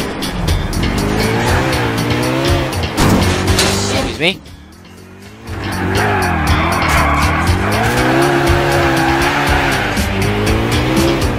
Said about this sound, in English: My tire is gonna blow any second. Why? Because I'm spinning out